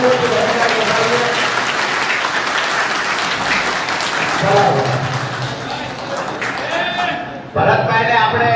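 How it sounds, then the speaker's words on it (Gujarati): Loud, sustained applause from a crowd at a political gathering in Thangadh welcomes Bharatbhai. It runs for about eight seconds with voices audible throughout, then shifts abruptly near the end. "જોરદાર તાળીઓથી ભરતભાઈને વધાવીએ"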